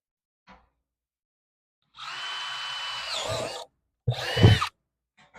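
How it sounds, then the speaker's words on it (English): A small electric drill whirs close up for a couple of seconds, its pitch shifting as it bites into a plastic water jug, then a second short burst follows. "So I have my little electric drill, and I'm going to put the holes in"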